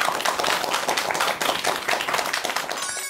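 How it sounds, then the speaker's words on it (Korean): Dense applause from a lecture audience, many hands clapping steadily at close range for about three seconds before tapering off at the end. "큰 박수 부탁드립니다."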